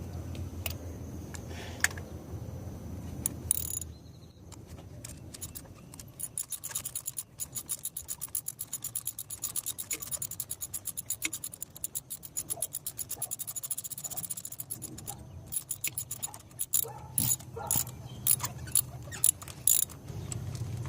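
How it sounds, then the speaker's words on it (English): Ratchet on a Kia Cadenza being jiggled back and forth to free a socket stuck on a spark plug, giving rapid clicking and rasping metal scrapes in uneven bursts, close and moderately loud, with no talking. "switch your ratchet to loosen it, kind of jiggle it back and forth"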